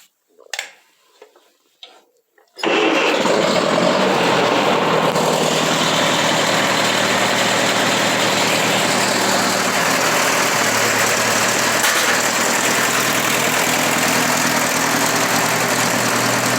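Ferguson TO-30 tractor engine cranks briefly with a few sputters, then catches and settles into a steady, loud, continuous idle that runs to the end, close to the listener.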